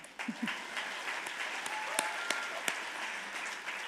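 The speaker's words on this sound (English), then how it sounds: "Let's just give a round of applause for that." Audience applause at an awards event, moderate, steady clapping from a crowd spread through the room, with a few sharper claps standing out, heard without any talking.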